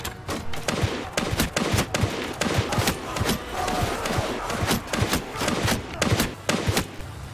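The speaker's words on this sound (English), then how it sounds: "we shall fire blindly into the fog. Shoot them all, every single one." Guns firing volleys in a modded Mount and Blade 2: Bannerlord battle, sharp irregular cracks and clustered bursts of shots, some close and loud, others overlapping in ragged volleys over several seconds.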